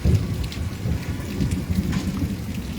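Rain with thunder in Halvad: a close, steady downpour hisses continuously while a low, rolling thunder rumble runs underneath the whole time, with no voices.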